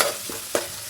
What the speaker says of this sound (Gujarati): ત્યારે ફટાફટ વઘાર કરી નાખીએ